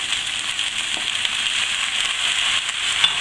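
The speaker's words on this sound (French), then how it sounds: "sans cesser de tourner. Je laisse à feu doux colorer les légumes" Provençal vegetables frying over low heat while being stirred, a steady soft sizzle with faint crackles and light scraping, close and continuous without talk.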